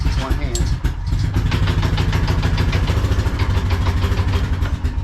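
A rollback truck's engine idles steadily in a loud, close, continuous rumble with a brief dip near the start, while a person speaks over it.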